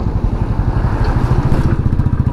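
A fully loaded Royal Enfield Bullet ridden slowly on a wet mountain road over the Zojila Pass, its single-cylinder engine thumping steadily and loud throughout with a dense, rhythmic low chug.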